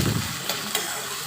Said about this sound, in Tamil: உப்பு சேர்த்து வெங்காயம் நல்லா வதக்கிக்கலாம்.